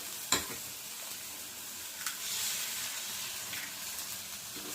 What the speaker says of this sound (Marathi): आता आपण अंडी फोडून टाकणार आहोत